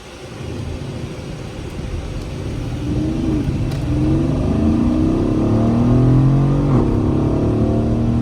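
A 2017 Mercedes GLE63 AMG engine revs up and accelerates, its deep growl rising steadily in pitch and growing louder, with no voices.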